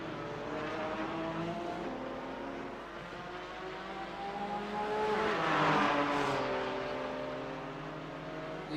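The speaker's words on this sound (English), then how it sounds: "It is Johnny Alford in the middle of it all. The Pennzoiled liveried Porsche." Race cars, including a Porsche in Pennzoil livery, accelerate in a sim racing game at the Long Beach street circuit, with loud, layered engine drones that rise and fall in pitch, gears shifting, and no talking.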